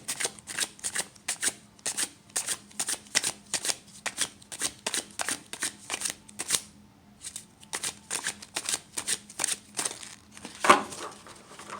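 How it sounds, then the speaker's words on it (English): A tarot deck is riffled and shuffled in quick rhythmic bursts of crisp card flutters close up, followed by a short pause and then more shuffling, ending with a single card being drawn. "Now we're going to pull a card."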